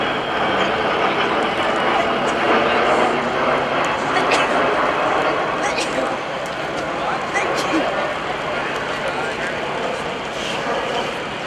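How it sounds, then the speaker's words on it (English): A KC-135R Stratotanker with four CFM56 engines roars steadily at an air show open house at Joint Base MDL, a loud, sustained broadband jet rumble that eases slightly partway through, with crowd voices underneath. "KC-135R Stratotanker, 4 big CFM56 engines on KC-135"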